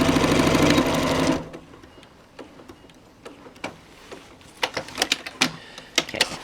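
Sewing machine stitching a reversible double-layer sling of different fabric weights, a loud rapid run for about a second, then quiet handling with scattered ticks and clicks.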